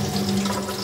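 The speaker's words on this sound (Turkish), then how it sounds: "Boya spatulamızı şu an suyla arındırıyorum" Tap water runs over a paint spatula as it is rinsed, a brief steady splashing rush close by.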